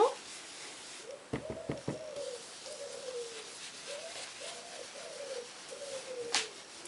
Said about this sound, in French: Écoutez ce chant des oiseaux là.